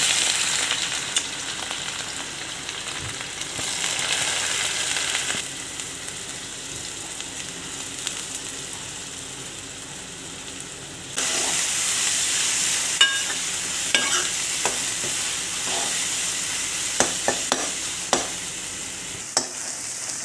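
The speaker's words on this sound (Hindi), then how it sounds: "अब हम प्याज डालेंगे जो हमने कद्दूकस करके रखा था" Grated onion sizzles and crackles steadily in hot oil in a wok, with occasional stirring scrapes and a louder burst of frying partway through.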